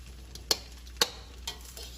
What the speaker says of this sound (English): Keep mixing, keep stirring